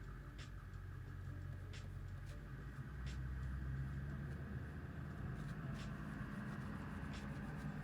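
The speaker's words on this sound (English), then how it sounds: "Somebody's truck is loud." A low, steady engine rumble from a truck outside, faint and constant, with occasional soft scratching sounds of oil pastel on paper closer by.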